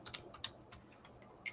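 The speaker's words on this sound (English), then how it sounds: "So I'm typing that in as we speak" Quiet keystrokes on a computer keyboard come in an irregular run of soft clicks at low level, with no speech.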